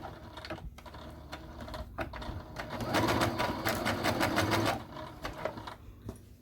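A sewing machine back stitches a pillow cover, with a rapid rattling run of stitching that builds in the middle and then gives way to lighter clicks.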